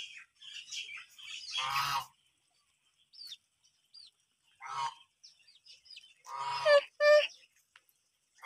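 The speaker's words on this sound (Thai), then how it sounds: "เป็ดบาร์บารี่เขาไม่ร้องนะทุกคนเขาจะเงียบๆไอ้ที่ร้องนะคือห่านนะ" Goose calls on a farm where Barbary ducks are kept: several short, harsh honks come in bursts between quiet gaps, fairly close, with chirps and a voice in between.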